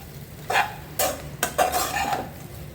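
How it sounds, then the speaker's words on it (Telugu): Puffed rice stir-fried in a pan on a low flame, heard as about four close scraping, rustling strokes of a spoon through the dry grains over a soft background sizzle. "ఈ మూరీలు వేసిన తర్వాత జస్ట్ సిమ్లో ఈ మూరీలంతా వీటెక్కేలా వేయించుకోవాలి."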